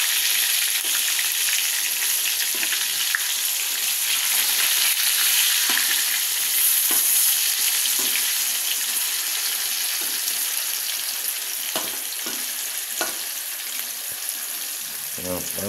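Tofu frying in a pan of hot oil for adobong kangkong, a loud steady hiss and crackle that runs throughout, with occasional clinks of utensils stirring.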